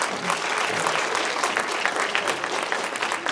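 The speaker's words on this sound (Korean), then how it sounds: "우리 2학년 1반 위해서 박수 한번 해줄까요?" Steady applause fills a school chapel service for a second-grade class, many hands clapping together close and loud for the full length, with no one speaking over it.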